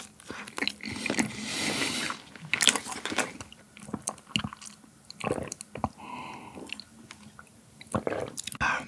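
Close, crisp biting and chewing on Yonsei milk matcha cream bread, with soft squishy mouth sounds and crunches repeating irregularly, no talking.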